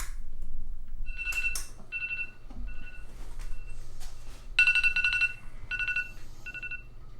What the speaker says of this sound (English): when my alarm goes off, I'll have to actually get out of bed to walk over to here to turn it off